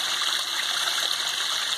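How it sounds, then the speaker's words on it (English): Pond water pumped up through about a foot of gravel in a backyard wetland filter gives a steady, even rushing and trickling wash, close and continuous with no talk. "The water's being pumped from the bottom up and just up through the gravel and everything in the wetland filter."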